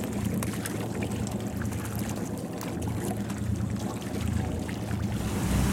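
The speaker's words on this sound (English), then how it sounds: "as we started our engines to get ready to move to Hall Over Bay" Steady low engine rumble of a sailboat's engines running off St. John island, with water splashing and wind noise over it, continuous and fairly loud throughout.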